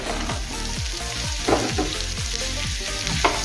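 Fried paneer pieces sizzle loudly in a pan over a medium-high gas flame for Paneer 65, a dense continuous frying hiss with a few stirring knocks, with a low repeating hum underneath and no speech.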